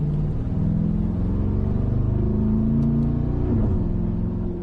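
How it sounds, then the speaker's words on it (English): Mercedes-AMG G63 V8 engine and exhaust grumbling loudly and steadily from inside the cabin, with a deep rumble that rises slightly as the revs climb, no talking over it. "Just a lot of noise, a lot of V8 grumble, and Mercedes and AMG just do this so well."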